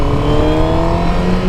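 A 2017 Honda CBR 1000RR sport bike runs at a steady, loud engine drone with a sustained tonal hum during a road ride, heard close from the rider's position with wind rush underneath.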